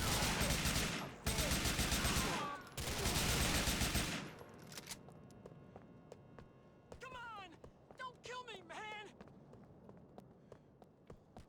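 Gunfire breaks out during a rocket-launcher fight in GTA IV. A voice talks at first, then a run of sharp shots follows, with scattered bursts and rapid volleys at moderate loudness.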